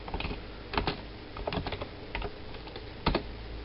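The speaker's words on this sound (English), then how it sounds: "Now, by typing a command, we can clear the screen." Typing a command on a computer keyboard to control a serial LCD backpack, a quick irregular run of close, crisp key clicks with short pauses between bursts.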